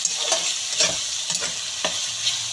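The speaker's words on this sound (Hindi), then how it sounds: "मसाले के अंदर हमने चम्मच से अच्छी तरह से हिला के मिक्स कर देंगे।" A spoon stirs potatoes through a sizzling masala in a pan, with a continuous frying hiss and several distinct scraping strokes at an even rhythm, close up and with no voices.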